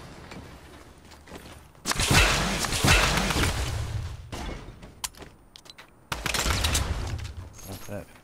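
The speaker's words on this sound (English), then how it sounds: "I hear gunfire" Bursts of gunfire in the Fortnite video game: a loud volley of rapid shots and whooshing impacts, a pause with quieter rumble, then a second loud burst near the end.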